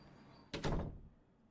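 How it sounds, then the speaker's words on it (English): A house door is opened after being left unlocked, giving one short burst of clunk and rattle that fades quickly into a quiet room. "The door opens."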